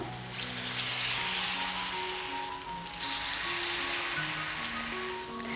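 Banana snack batter made with rice flour fries in hot oil, giving a steady, crackling sizzle close up that swells briefly partway through, with a faint tonal background underneath.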